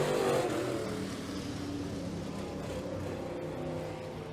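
Race cars roar around the Humberstone Speedway track, a steady, fairly distant engine drone with no clear passes standing out.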